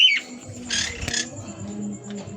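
Birds call inside a home aviary housing parakeets such as Par Blue and Lutino Opaline, with a bright chirp at the start and brief soft calls and coos over a low background hum.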